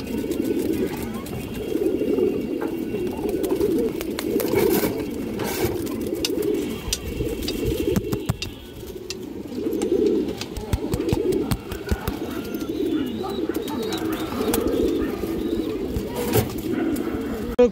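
Indian high-flyer pigeons cooing in a steady, low, throaty murmur at a pigeon sale, with scattered wing flutters and handling noises and someone talking over them.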